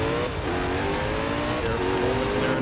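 A 2011 Koenigsegg Agera racing around Spa-Francorchamps in Forza Motorsport, its engine roaring loud and close with a sustained high-revving drone and rising pitch, with no voices.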